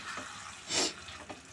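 Goat meat fried and stirred in a pan for a thin curry, with a steady sizzle and a brief louder burst of frying as it is turned, no voices.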